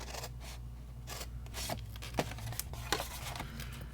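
Scissors cutting straight lines into paper for a birthday gift box, a few quiet close snips and paper rustles at a low level, no talking.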